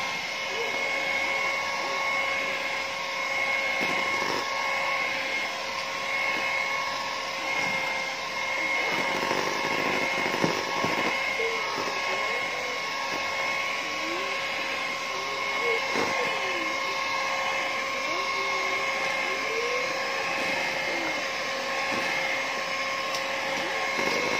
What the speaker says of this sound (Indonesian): Kemudian kita mixer sampai rata dan adonan menteganya jadi lembut.